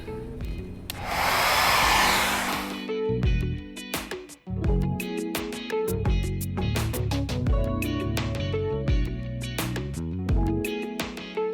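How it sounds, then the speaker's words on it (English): A blow dryer set on high roars for a couple of seconds as it melts crayons on a canvas. The burst is loud and close, followed by a layered tonal background. "I'm going to take my blow dryer and turn it on high"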